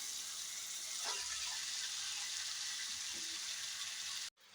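Spinach goes into a hot pan with softened tomatoes for a keerai poriyal, giving a steady quiet sizzle with a couple of faint stirring scrapes before a brief cut near the end.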